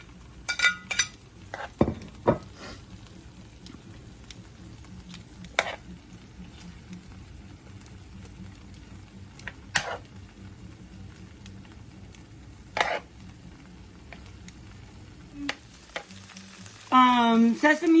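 Meat stir-frying with vegetables in a hot pan for pepper steak, a steady loud sizzle with occasional sharp clinks of a utensil against the pan and a louder burst of stirring near the end.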